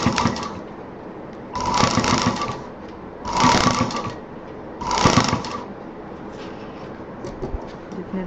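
A sewing machine stitches a curved seam on a homemade college bag in three short bursts of rapid whirring, separated by quiet pauses, close and moderately loud.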